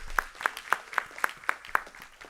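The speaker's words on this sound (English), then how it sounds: "let's give them a round of applause" Sparse clapping at a school board meeting honors the graduating class of 2019: about seven crisp, evenly spaced claps, fairly faint and close, sounding more like a single person than a full crowd.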